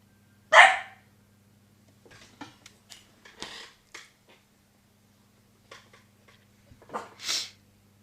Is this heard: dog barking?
yes